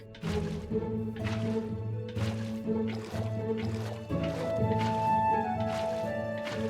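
Water is placed repeatedly to waterlog leaves in Minecraft, a series of about six soft squishy splashes at an even rhythm over faint background music.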